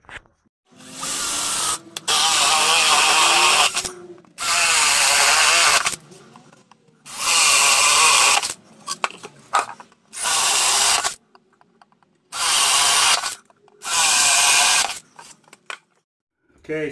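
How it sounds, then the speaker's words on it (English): A power drill with a 7/8 bit drills holes in a wooden beehive quilt box in repeated loud bursts of a few seconds each, separated by short pauses, close by. "we're going to use a 7/8 drill bit to put those in there"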